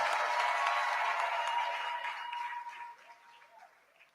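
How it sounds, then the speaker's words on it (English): Audience applause at an induction ceremony for newly qualified medical and dental practitioners, steady and dense at first, then thinning out and fading over the last second or two. "Can we give a better applause?"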